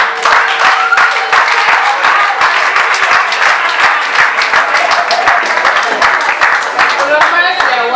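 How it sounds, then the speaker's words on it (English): A church congregation at a wedding service claps hands loudly and steadily, a dense continuous patter of many claps close by with some voices mixed in. "Clap hand."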